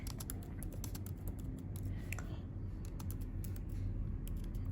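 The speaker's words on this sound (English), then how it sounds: "I'm doing this while typing" Rapid, quiet clicks and taps of typing on a computer keyboard, an irregular stream of keystrokes close by in a quiet room with no talk.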